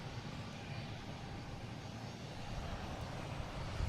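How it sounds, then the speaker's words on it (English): An Airbus A319 airliner arrives at Boston Logan, its engines making a broad, steady roar that swells slightly over the few seconds, close and loud with no break. "we got a Philly special coming in, an A319"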